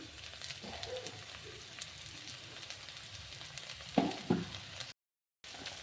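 Meat frying in its own released oil in a home kitchen pan during cold weather, a steady soft sizzle with a couple of louder clatters near the end before a brief cut, then the sizzle resumes.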